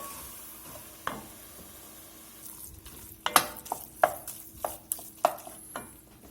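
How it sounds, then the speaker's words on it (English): Dry red Cabernet Sauvignon, a cup and a half, is poured into a pan of flour-coated lamb for shepherd's pie. It gives a soft sizzle and stirring under a steady hiss, with several sharp clinks and scrapes toward the end. "We're going to go ahead and get our red wine in."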